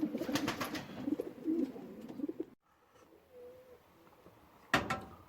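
Pigeons cooing in a loft, soft throaty coos close by with a couple of wingbeat-like flutters, a quiet pause, then a sharper burst of fluttering at the end.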